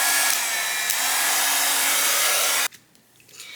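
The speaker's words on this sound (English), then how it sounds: "I'm going to heat up my tool first, and then I will melt the embossing powder" A handheld embossing heat tool blows loudly with a steady broadband whoosh for a few seconds while heating up for melting embossing powder, then cuts off abruptly, leaving quiet room sound with faint handling noise.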